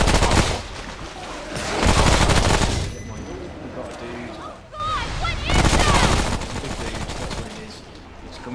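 Sustained automatic gunfire in the video game Remnant from the Ashes, long loud bursts of rapid shots with brief pauses between them, with a speaking voice faintly present.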